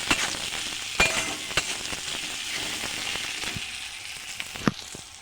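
Chopped ingredients sizzling in a hot pan after salt is added, a steady crackling fry with a few sharp clinks of a spoon against the pan.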